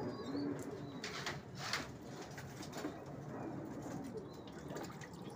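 Pigeons cooing in a loft during hot weather, a soft continuous murmur of several birds close by with occasional brighter calls, and faint voices in the background.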